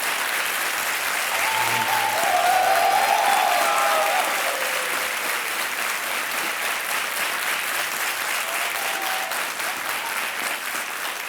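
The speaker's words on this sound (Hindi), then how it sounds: "एक बार फिर ताली बजाते हैं इनके लिए" Studio audience applause on the TV quiz show Kaun Banega Crorepati, sustained loud clapping from a large crowd running for over ten seconds, with a brief faint tone early on.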